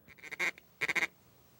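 A duck gives two short bursts of quacking, a few rapid calls, then a pause, then another quick cluster, close and fairly clear over a quiet outdoor background.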